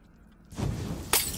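Glass shatters in the survival horror game Resident Evil 7, with a sudden loud crash that cuts through a quiet room, then a bright burst of breaking shards a moment later.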